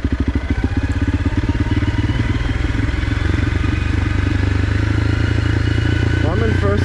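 A motorcycle rides down the Munyon trail in first gear, its engine loud and close with a rapid, steady thumping throb and clattering over the terrain.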